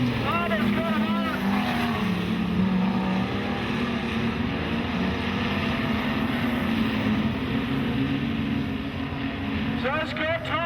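Modified production race cars lap Maryborough Speedway at night, their engines a continuous, distant, droning roar rising and falling, with a voice talking over the noise.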